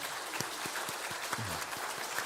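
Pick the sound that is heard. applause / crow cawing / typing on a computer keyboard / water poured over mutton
applause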